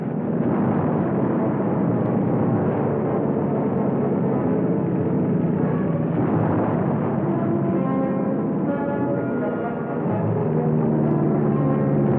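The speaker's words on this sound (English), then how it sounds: "Our planes bomb and strike." Warplanes flying bombing and strike runs over Guam produce a dense, loud, continuous engine roar throughout, with rumbling and rising tones and no speech.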